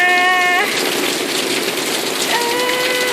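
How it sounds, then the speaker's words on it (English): Heavy rain pouring onto a porch, a loud, dense, continuous hiss close by, with a sustained tonal horn-like sound at the start and again near the end. "but it's raining."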